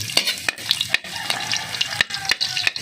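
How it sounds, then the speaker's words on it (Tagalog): Garlic and ginger fry in a pan for ginisang sinigang with fish, a close sizzle broken by repeated scraping stirs and clicks of a utensil against the pan. "Lagyan natin ng bawang."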